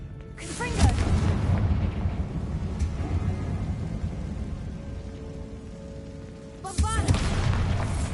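Hogwarts Legacy's Confringo spell goes off in a loud fiery blast with a rumbling roar that fades, and a second burst comes near the end.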